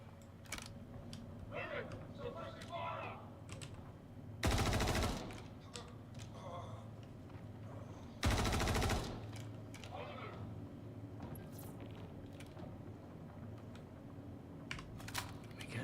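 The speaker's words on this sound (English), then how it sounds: "Move it! Suppressive fire!" Suppressive gunfire in the video game Star Citizen: two loud, sustained bursts of automatic fire, each lasting under a second, rise over a busy background of clicks and distant combat sounds, with voices talking faintly throughout.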